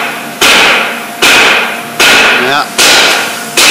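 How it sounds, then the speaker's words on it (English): A man hammers a brake drum off his own truck in a garage, five loud, sharp metallic blows at a steady pace, each ringing out before the next, with a brief word spoken between strikes. "trying to hammer a drum off his own truck"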